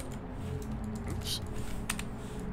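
Keys clicking on a computer keyboard during a Backrooms escape game session, a quick irregular run of taps with a few sharper strokes, heard close and under a faint voice.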